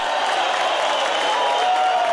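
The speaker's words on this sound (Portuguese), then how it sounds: "a torcida comemorou como se fosse um gol" A dense football stadium crowd roars and applauds as a Rubro-Negro striker steps onto the pitch for his debut, a loud, sustained wash of cheering with no individual voices standing out.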